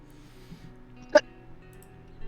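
A single short sneeze bursts out once, fairly close, against a quiet room background during a tabletop role-playing game session; no talk accompanies it.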